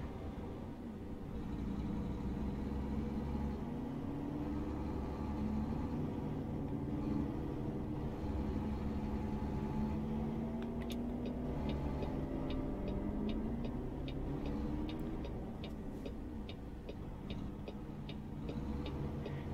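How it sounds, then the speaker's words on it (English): A steady low truck engine drone in American Truck Simulator hums continuously, with a faint regular ticking joining partway through. "we'll just have to go with the sounds of the truck"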